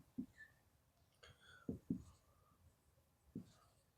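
Marker or chalk strokes on a board in a quiet classroom lesson: several short, faint squeaks and scratches come in irregular bursts with pauses between, and nobody speaks over them.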